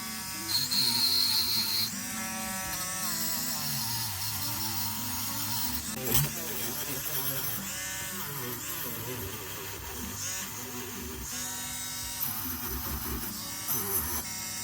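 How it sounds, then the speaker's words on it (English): A motorized wire wheel strips paint from a vintage Weetabix die-cast toy vehicle, giving a continuous buzzing whir that shifts in pitch as the piece is pressed against the wheel, steady and close throughout. "this will now take us over and into the wire wheel part, just to make sure we get the thick off there"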